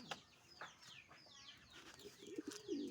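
Several domestic pigeons cooing and burbling close by at feeding time, overlapping soft throaty calls with faint chirps and fluttering, fairly quiet.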